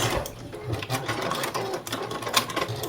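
A sewing machine stitches a tree trunk segment on a snowman quilt, giving a close, busy rattle of needle and motor throughout a short burst.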